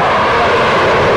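A fighter aircraft such as a MiG-29, Sukhoi or Tejas flies at a forward air base near the LAC, giving a loud, steady, broadband engine roar that fills the whole stretch without a break.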